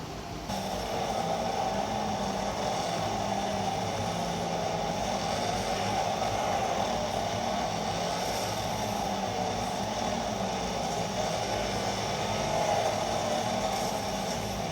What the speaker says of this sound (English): what you're hearing here is part of the gaming experience with the fan turned on at full speed